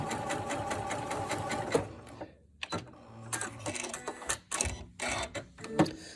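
A Janome M7 sewing machine stitches through a folded single layer of cotton, a steady rapid mechanical whir and clatter that pauses and restarts in short bursts.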